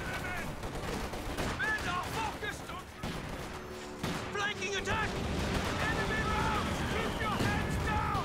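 Mortar fire and gunfire from Company of Heroes 2 crackle in dense bursts and thuds amid busy battle noise, with a voice talking over it.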